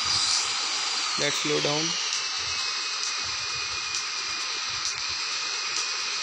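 Steady jet engine roar from a fighter aircraft in a flight combat video game, loud and continuous throughout, with a voice speaking briefly over it near the start.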